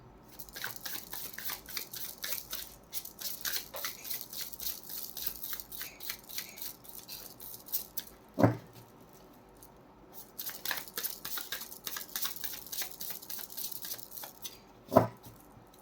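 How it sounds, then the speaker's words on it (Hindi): Tarot cards being shuffled by hand, a quiet papery riffling and rustling that comes in long bursts, with a couple of sharper taps or slaps between them. "आप अपना सवाल सोच लीजिए, तब तक मैं शफल कर रही हूँ कार्ड्स।"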